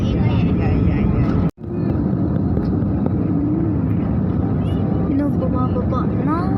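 An airplane rolls along the runway, its engine roar loud and steady from inside the cabin, with one brief dropout, while a voice speaks over the noise.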